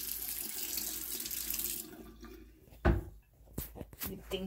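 Water splashing in a playful Super Smash Bros movie remake: a running, tap-like gush at first, then a sharp loud splash followed by scattered smaller splashes and knocks.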